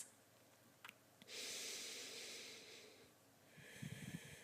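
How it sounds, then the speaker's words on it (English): Slow, breathy inhale and exhale during a yoga twist, a long soft airy rush in the middle with quieter breaths before and after, close and faint with no talking. "Big deep breaths"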